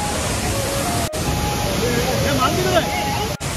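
Tapalwadi waterfall near Neral rushing as a constant broadband roar, loud and close, with a voice talking over it and faint chatter nearby.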